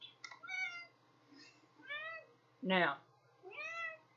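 A house cat meows several times in short, clear calls spaced across the clip, close and fairly quiet, with a person speaking briefly.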